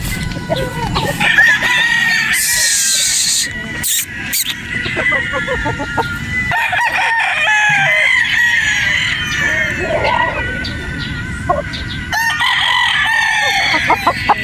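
White muff gamefowl roosters crow repeatedly and loudly nearby on a game farm in Batangas, overlapping with clucking hens and farmyard bustle throughout.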